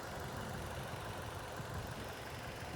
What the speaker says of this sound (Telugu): సో చూడండి అప్పట్లో ఇంజిన్ సౌండ్ ఎంత హార్ష్గా ఉందో